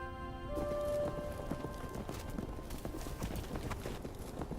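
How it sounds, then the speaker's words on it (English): Wild horses move about on open range during an October roundup in the Divide Basin, with soft hoof clops and a brief snort or whinny from a filly early on, fairly faint and unaccompanied by talk. "The filly snorts an alert"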